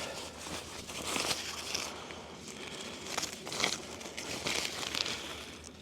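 A canvas tent floor for a two-person hot tent is unfolded with close, irregular crinkling and rustling bursts of heavy fabric that rise and fall throughout, with no voices.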